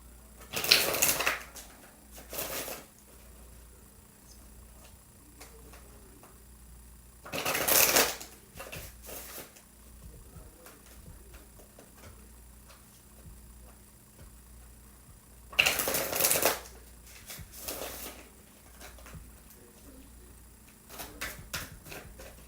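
Tarot cards shuffled in four separate bursts of brisk riffling, close and fairly soft, with quiet pauses between them.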